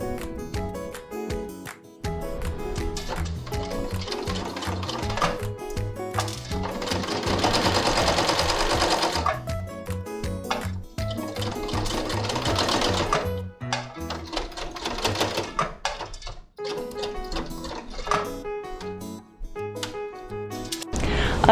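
A sewing machine runs in long steady bursts while stitching fabric along a pinned edge of a scrunchie, its rapid needle chatter loud and close with brief pauses between runs.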